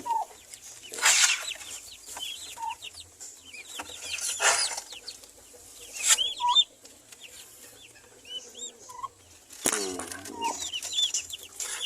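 Several turkeys cluck, chirp and call on and off around a farmyard, with sharper squawks at intervals and a faint low hum underneath.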